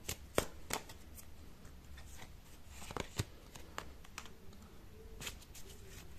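Tarot cards being shuffled by hand, soft papery riffling under a faint room hiss, punctuated by a few sharper snaps and taps, close and fairly quiet.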